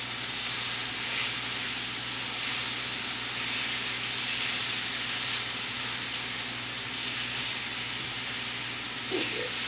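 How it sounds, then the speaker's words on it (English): Steak medallions sizzle in a pan with tallow, a loud, steady close hiss of frying that holds evenly throughout, with no talk. "So I watch my steak to see how well it's cooking"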